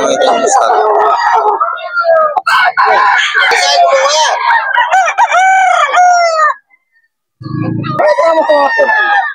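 Young roosters (stags) crowing over and over at a busy chicken market, loud overlapping drawn-out calls from several birds close by, with a brief pause and a low thump before the crowing resumes.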